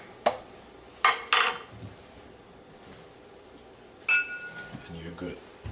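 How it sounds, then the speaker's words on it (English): A spoon clinks against a cup while stirring turmeric tea, a few sharp metallic taps spread out with quiet gaps, close by, with a voice speaking briefly. "stir that around"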